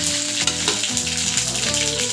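Tempering spices hit hot oil for a bitter gourd and tomato curry, producing a loud, continuous sizzle heard close by, with background music running underneath throughout.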